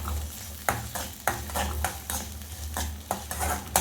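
Coconut pieces sizzle in hot ghee while a spoon stirs and scrapes the pan in a quick, regular rhythm, close and fairly loud.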